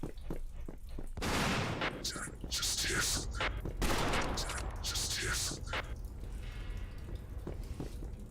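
Gunfire in the video game Peripeteia, loud rapid bursts of shots in several waves that fade toward the end, with a voice talking amid the shooting.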